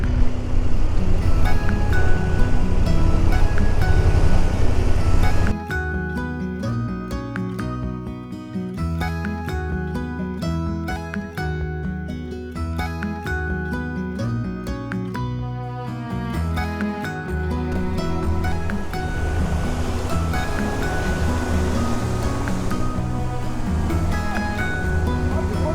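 Rushing water from mountain waterfalls roars as a loud, steady broadband wash for about five seconds, then music takes over and the rest continues under it.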